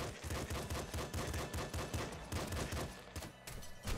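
Rapid bursts of Kraken pistol gunfire in the video game Nuclear Throne, a dense, loud stream of repeated shots with game effects, fired continuously with no talking.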